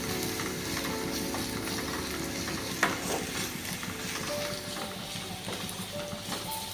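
Spices stirred and frying in a pan for Kerala-style chicken curry with coconut milk, a continuous close sizzle with scraping stir strokes and one sharper clatter partway through.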